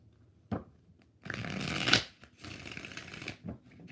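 Tarot cards are shuffled in several quick riffling bursts, close and crisp, with short pauses between the flurries.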